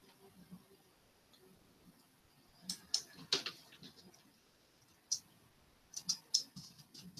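Computer keyboard typing at home, scattered soft key clicks and taps coming in small bursts with pauses, faint and close, with a few louder clacks and low room noise.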